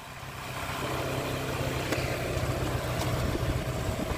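Two motorcycles, a Yamaha R15 V4 and a Honda CB Unicorn, roll along in second gear, their steady engine drone and low exhaust rumble holding continuously and fairly loud with no talk over it.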